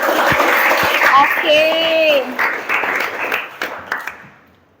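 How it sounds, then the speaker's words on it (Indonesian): Students in a classroom clap their hands together in a dense, lively burst lasting several seconds, with a teacher's voice and other voices speaking over it before the clapping fades out. "Kita bisa sama-sama tepuk tangan untuk kita semua."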